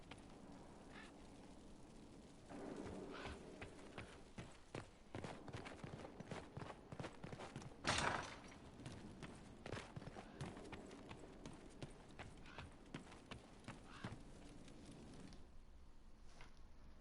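Horse hooves clip-clop at a walking pace in Dragon Age Inquisition, a steady run of moderate, close thuds with one sharper knock midway, over a low ambient game bed.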